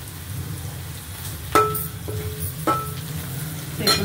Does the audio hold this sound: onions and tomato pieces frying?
yes